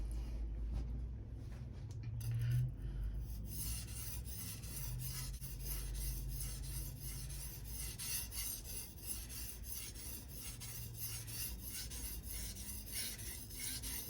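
A ZDP-189 core-steel Bunka knife is honed on a Suehiro 1000/6000 combination whetstone, producing continuous close scraping strokes with a gritty, even rasp and no voices.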